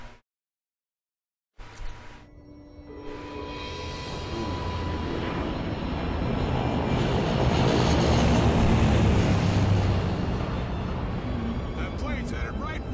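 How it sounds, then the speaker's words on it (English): An airplane passes overhead in the video game Left 4 Dead, its engine drone swelling from faint to a loud, steady roar and then easing slightly. A voice speaks over it. "That plane's headed right for the airport."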